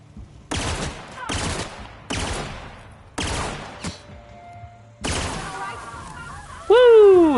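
Bolter pistol fire in the video game The Outer Worlds: five loud bursts of rapid shots spaced about a second apart, then a longer burst ending in a sweeping, falling electronic tone.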